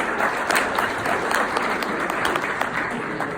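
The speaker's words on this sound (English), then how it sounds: "Round of applause for the seniors in the" Seniors at an honor society induction ceremony receive a loud, sustained round of crowd applause, dense and continuous from many hands throughout.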